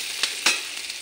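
Crushed garlic and onion frying in a pan, an airy sizzle broken by two quick stirring scrapes, close and without voices.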